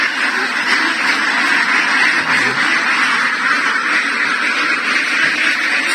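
Ducks quacking in a pen on a duck farm in the Philippines, a dense, loud, continuous chorus of many birds close by with no talking.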